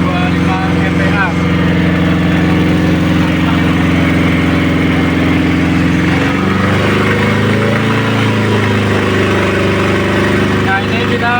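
A fuel-injected car engine holds a steady 2000 rpm, a loud, continuous close-up drone that stays even throughout with no changes in pitch.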